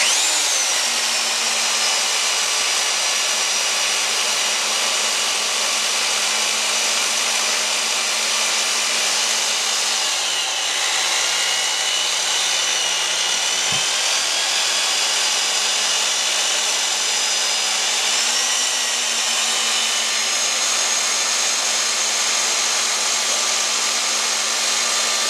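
A power drill fitted with a mixing paddle whines steadily and loudly for the whole stretch as it churns a thick mash of donuts and starch, its motor tone dipping briefly and then recovering, with no talk.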